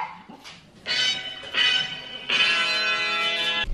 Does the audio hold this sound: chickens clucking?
no